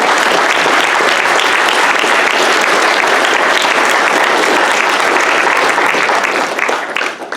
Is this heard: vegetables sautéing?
no